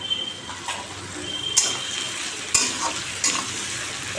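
Onions frying in a pan for a meat curry give off a steady sizzle. Stirring adds a few sharp scrapes and clacks of the utensil against the pan, close by, with no talking.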